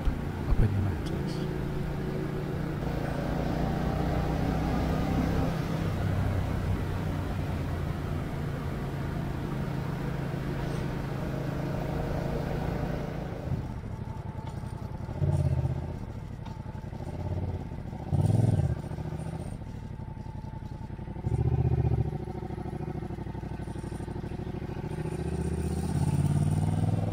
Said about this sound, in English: stuck it in second gear, let the clutch out, and thank the Lord, it started up again